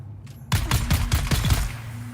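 Rapid automatic gunfire from a weapon in the video game Dune: a burst of about eight sharp, evenly spaced shots following a brief faint click, fairly loud, with no speech over it.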